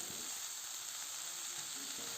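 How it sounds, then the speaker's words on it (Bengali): Tamarind leaves and mari greens fry in a pan with chili paste and get stirred, giving a steady, quiet sizzle with a few faint scrapes and no voices. "একটু নেড়ে নেব।"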